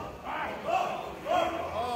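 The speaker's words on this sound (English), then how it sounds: "Fans are cheering on Kenny Kalypso." Crowd at a wrestling match in the Houston Premier Arena cheering for Kenny Kalypso, a moderate roar that swells twice with rising chant-like shouts, heard from within the arena.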